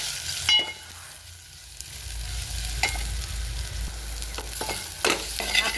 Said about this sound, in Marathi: आता हे सगळं मसाले आपल्याला छान परतून घ्यायचे